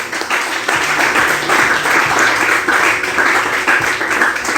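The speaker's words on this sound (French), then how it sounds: "Est-ce que tu peux acclamer pour Dieu?" A church congregation applauds and cheers for God in a sustained, dense wash of clapping that holds steady and loud throughout, with no pauses.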